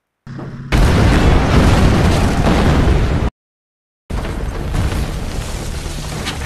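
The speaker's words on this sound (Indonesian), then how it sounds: "terjadilah ledakan dahsyat" A massive, roaring explosion in a Korean War film blasts for a few seconds, cuts to brief silence, then another sustained rumbling blast follows, loud and close.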